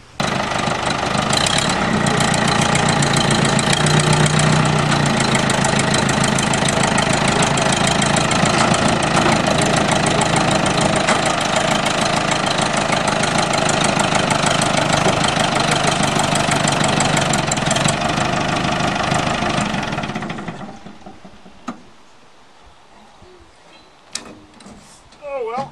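A tractor engine runs loud and steady for about twenty seconds with a continuous mechanical rumble, then cuts off, leaving a few faint clanks and knocks near the end. The tractor is being checked while a seized Buick engine's crankshaft awaits work.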